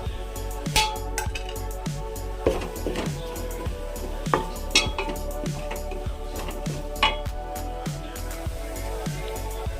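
A spoon stirs garam masala, chicken masala and mutton masala into chicken curry in a pot, giving repeated close knocks and soft scrapes against the vessel at an uneven rhythm.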